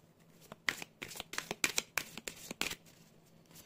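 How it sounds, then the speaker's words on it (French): A deck of oracle cards is shuffled by hand close by, a rapid run of papery flicks and riffles that trails off toward the end, with no speech. "dernière carte avec l'oracle de Noé."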